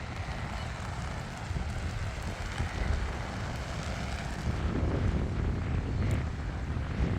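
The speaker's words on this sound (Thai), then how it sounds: "ลมแรงนะคะลมพายุ" Strong stormy wind outdoors where a dragon kite is being flown, a steady, loud rushing roar buffeting the microphone and swelling slightly toward the end, with no talk over it.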